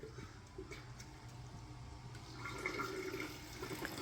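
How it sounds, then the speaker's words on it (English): Battery-powered bilge pump pushing water through a gold prospecting sluice, a soft continuous watery rush that grows fuller and louder partway through, with no talking. "I have my sluice pump, bilge pump, hooked up to this dial right here. It runs off this battery"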